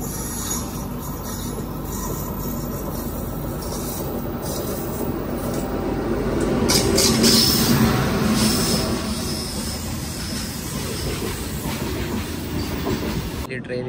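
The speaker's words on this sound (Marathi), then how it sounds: "इकडून अजून एक ट्रेन येते." Another train rolls past on the track near Vidyavihar station on the Mumbai suburban line, a steady rumble with wheel clatter that swells midway and then eases.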